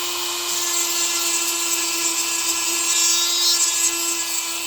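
A Dremel rotary tool grinding a chainsaw chain to sharpen it, a steady high-pitched whine with a constant tone and gritty grinding hiss, close and continuous without pauses.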